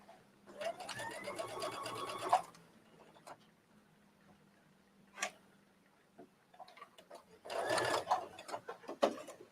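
A sewing machine runs in two stitching bursts while two rows are sewn on a trench coat, with quiet handling clicks between them; the machine is near and moderately loud.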